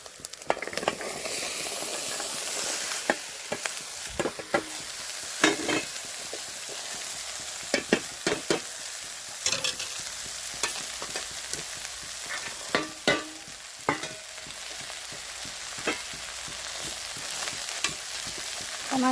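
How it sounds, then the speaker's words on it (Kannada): Lentils and spices for a tempering spit and sizzle in hot oil for sambar, a steady frying hiss punctuated by sharp pops and scattered crackles, with occasional stirring scrapes in the pan. "ಇದಕ್ಕೆ ಕಾಳು ಹಾಕ್ತಾಯಿದ್ನಿ."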